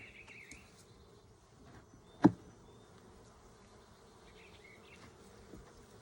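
Honeybees drone in a low, steady buzz around an opened hive with a super being added to prevent swarming, with a single sharp knock partway through and a couple of faint insect whines near the microphone.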